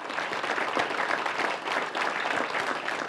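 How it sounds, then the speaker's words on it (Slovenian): An audience at a folk entertainment show gives sustained, dense applause for four women, many hands clapping steadily and fairly loudly with no talk over it. "Dajmo jim en velik aplavz."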